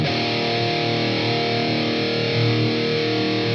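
A thick, heavily distorted metal electric guitar tone run through effects, a sustained dense chord ringing steadily and loud, with no talking over it.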